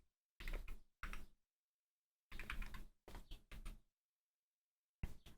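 Quick clusters of keystrokes on a computer keyboard, typed in short bursts separated by silent pauses, close and fairly quiet.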